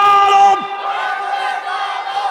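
A crowd at a Bangladeshi waz gathering chants takbir in unison, a loud sustained chorus of massed voices that holds steady for a couple of seconds.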